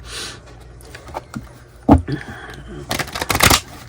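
Playing cards riffle and slap together in a few quick bursts, close up, with light handling noises between them and no talking.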